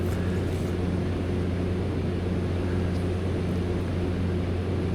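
Steady, loud cabin drone of an airplane in flight just after takeoff, a continuous broadband roar with low engine hum filling the whole stretch, no voices.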